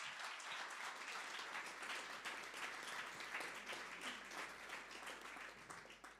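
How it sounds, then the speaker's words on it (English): Audience applause for a speaker at the end of a presentation at a Speck&Tech tech meetup on healthcare data: dense, steady clapping from a room of people, fairly quiet and even throughout, tapering slightly at the end. "Jovan Stevovic, a big applause for him."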